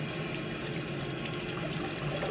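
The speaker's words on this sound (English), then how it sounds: "I've been running cold water over them." Cold tap water runs steadily over cooked potatoes in a colander, a continuous close hiss and splash with no pauses or voices.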